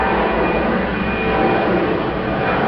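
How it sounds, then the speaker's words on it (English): Airplane flying overhead, a steady loud broadband roar with no breaks across the whole stretch. "Gotta wait for the plane."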